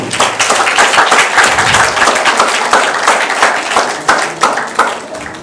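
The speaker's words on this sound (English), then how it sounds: "Yes, you can keep clapping." A room full of people applauds loudly and continuously, dense clapping with a few sharper claps standing out near the end.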